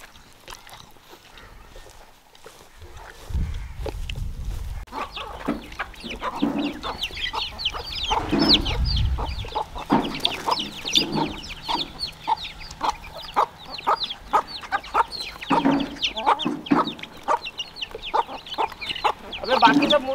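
Chickens cluck and chatter steadily and busily nearby, with a low rumble early on and continuous fowl calls throughout.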